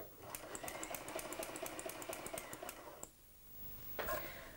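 A Hague linker knitting machine sews chain stitches in a fast, even mechanical rattle, quiet and close, stopping briefly before a short final burst of clicking.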